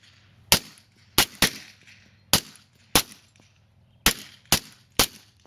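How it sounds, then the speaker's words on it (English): Suppressed .45 pistols, an HK full-size tactical with an Osprey 45 silencer and a Glock 21 with an Evo 45, firing eight sharp muffled shots at irregular intervals outdoors, each loud crack followed by a short decay. "We got an HK full-size tactical with the Osprey 45, and we got a Glock 21 with a Evo 45."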